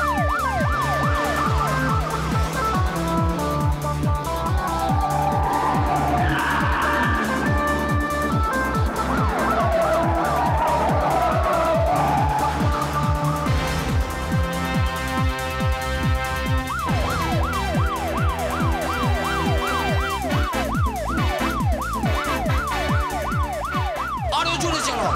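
In a cartoon chase, a jeep's engine races continuously while a police siren wails behind it, with wavering tones cycling loudly and steadily throughout.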